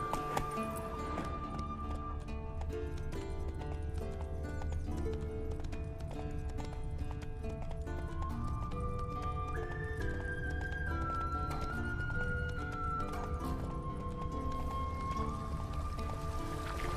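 A horse gallops in the video game The Witcher 3, with a quick, steady clip-clop of hooves running under the game's music.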